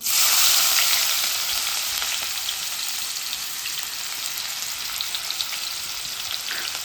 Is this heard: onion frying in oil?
yes